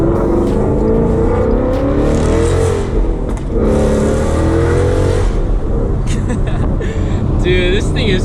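A Ford Mustang GT 5.0 with a loud exhaust is heard from inside while driving, giving a heavy, continuous engine drone that swells and eases with the throttle, loud and close throughout.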